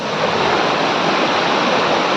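Ranpat waterfall in Konkan pours down in a steady, loud, broadband roar of falling water, close and unbroken, with no voices.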